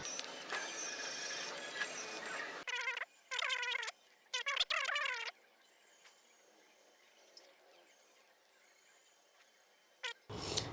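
A 3D pen whirs in short mechanical bursts while drawing, a squeaky motorised buzz starting and stopping several times, close and alone after a stretch of noisy background.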